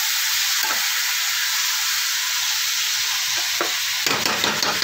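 Vegetables with salt and turmeric frying in a pan, a loud steady hissing sizzle with a few scraping stirs and a burst of clatter near the end, no talking.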